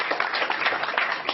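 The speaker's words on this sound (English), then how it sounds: "Please give Brian a round of applause." An audience gives a brief round of applause for Brian, a guest joining the show. The clapping is dense and fairly loud, a continuous patter of many hands with no voices over it.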